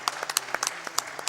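A handful of people clap briefly, scattered hand claps at irregular intervals, fairly faint.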